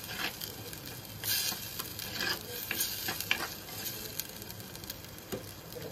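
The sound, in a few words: roasting chicken masala in a pan, stirring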